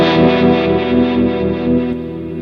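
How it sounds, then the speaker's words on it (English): A guitar runs through a mono harmonic tremolo on a Line 6 HX Stomp. A sustained, slightly distorted chord swells and dips in a steady pulsing rhythm, loud and close with no voice over it. "I have a mono harmonic tremolo, and what this does is add a little bit more of a pulsing sound"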